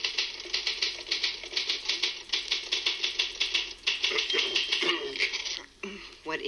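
Rapid typewriter keystrokes clatter in a dense, fast rhythm on a vinyl comedy record, loud and close, with a voice talking over the typing toward the end.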